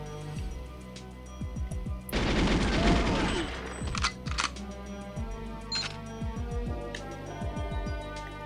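Gunfire in the Nintendo 64 game GoldenEye 007: repeated sharp shots and an extended rapid burst of automatic fire in the middle, with scattered single bangs before and after, loud and close.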